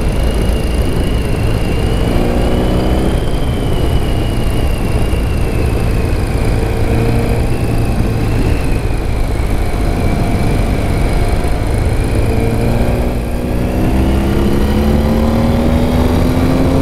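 BMW R100RS motorcycle engine revving while riding, a steady loud drone with rising and falling pitch sweeps as the throttle is twisted, plus wind rush throughout.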